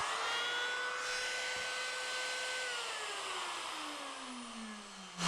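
A router trimming the edge of a laminate countertop gives a high, steady whine whose pitch slowly sinks as it works along the edge, with no voices.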